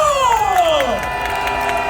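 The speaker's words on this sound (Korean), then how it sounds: "박수 주십시오." A crowd at an outdoor candlelight protest rally in Korea cheers. Raised voices give a loud, sliding whoop that falls away, followed by scattered shouting, with little distinct clapping.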